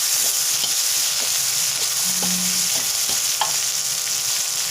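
Pork belly stir-fried with chili and salt in a pan gives a steady, close sizzle, with a few light scrapes and clinks from stirring.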